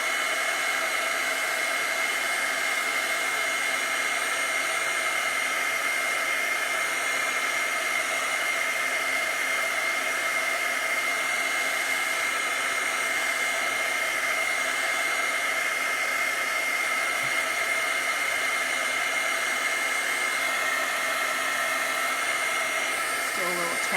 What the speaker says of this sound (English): Then I'm going to take the dryer and go ahead and dry to give thanks